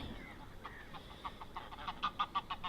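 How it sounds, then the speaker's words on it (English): Geese at a carp fishing lake honk in a rapid series of loud, harsh calls that grow busier toward the end, squabbling birds close by over a faint outdoor background. "There's the old geese starting to start fighting again."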